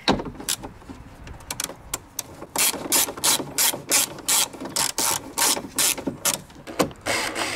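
Ratchet wrench with an 8mm hex socket working on a BMW E64 convertible trunk lid, giving rapid bursts of clicking ratchet strokes in an irregular rhythm, close and crisp.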